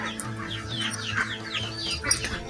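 Local hen chicks in a brooding pen with dry sawdust bedding chirp and cheep in quick, overlapping high peeps, close and continuous, with a soft clucking undertone.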